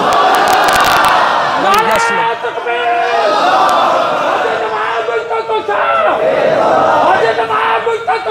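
A large crowd at a Friday sermon shouting and chanting slogans together, loud and close, with swelling voices and a preacher's voice mixed in.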